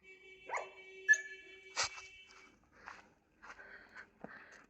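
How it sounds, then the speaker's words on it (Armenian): A dog near a parked car barks and yelps in several short, separate bursts, fairly quiet, over a faint steady tonal hum and brief scuffling. "դու ինչ ես այդտեղ հաչում"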